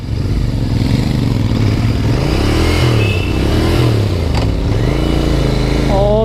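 Royal Enfield Continental GT650 twin-cylinder motorcycle being ridden, its engine droning loud and continuous with undulating pitch as revs rise and fall, close to the microphone with some rattling clatter.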